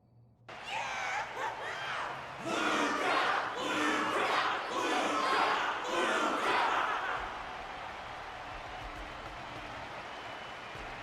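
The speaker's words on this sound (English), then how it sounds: "the audience's passion stays strong. Their constant applause is a salute to this resilient Belabogian fighter" In a video game arena, the audience cheers and applauds a defeated fighter. A loud, roaring wave of clapping and shouting swells for several seconds, then settles into a steady, lower crowd murmur.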